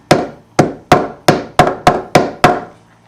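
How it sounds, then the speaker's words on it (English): Eight sharp hammer taps on a wooden banjo part, evenly spaced and close, each a crisp knock that quickly fades. "Sometimes you can tap it in with your hammer"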